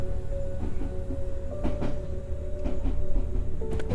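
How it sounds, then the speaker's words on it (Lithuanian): A train runs through a small forest at night, giving a steady low rumble with soft rhythmic clicks and clunks from the rails, moderately close and with no talking. "Traukinys pravažiuoja pro nedidelį mišką."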